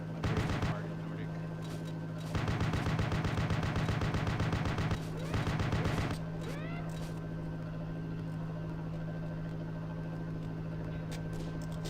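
Bursts of video game gunfire in a Nordic-set shooter, with two dense volleys of rapid shots and a sharp sniper crack among them, loud and close, then quieter ambient game sound.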